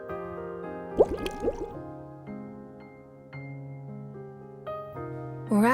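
Squishy, bubbly popping and dripping effects from bubble robots in the video game Nikke play over layered game music, with a cluster of wet squelches near the start and another burst at the end.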